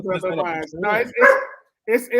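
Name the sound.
dog barking at new dogs outside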